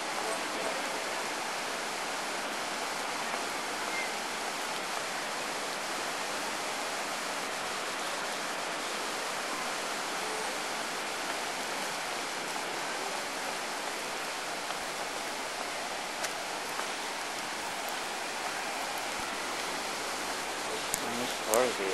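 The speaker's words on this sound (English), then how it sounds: "Into the waterfall area." Continuous broad rushing of a waterfall, steady and fairly close, a dense hiss of falling water that holds unchanged throughout with no clear breaks.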